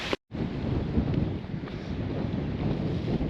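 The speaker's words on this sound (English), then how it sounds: "now it's pouring. Absolutely pouring." Heavy downpour on a mountain hike up Olomana's Three Peaks on Oahu, a dense, steady broadband roar close to the microphone that fills the clip after a brief dropout at the start.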